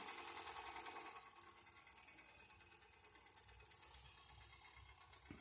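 A modified Wilesco D455 live steam engine runs with a fast, steady mechanical ticking and clatter, faint and continuous, and no one speaks over it.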